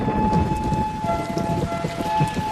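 Heavy rain pours steadily during the rainy season at Copan, with low rolling thunder rumbling underneath the continuous hiss of falling water.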